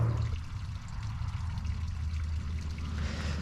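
Water seeping out of the ground into a farm pond in a wetland area, a steady low trickling and flowing sound, continuous and fairly close, with no voices.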